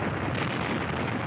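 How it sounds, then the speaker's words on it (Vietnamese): Bombs bursting during the Soviet bombing raid on Helsinki, a dense, continuous roar of blasts and rumbling debris filling the whole moment at loud, steady intensity with no voices. "Bạn cảm thấy nhịp tim của bạn đập nhanh hơn chứng kiến những tòa nhà sụp đổ khi bom nổ."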